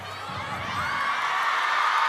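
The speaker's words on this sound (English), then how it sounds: "the crowd eager to get this one underway. You can hear the noise growing, the anticipation building." Crowd noise in a table tennis arena before a women's singles match at a China event, a steady broad wash of many voices that grows louder, with a few whoops and a low voice near the start.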